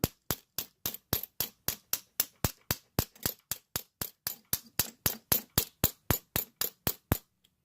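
A small hammer taps a vintage Yale metal padlock about two dozen times in a quick, steady rhythm, each strike sharp and ringing, close by, with no talk.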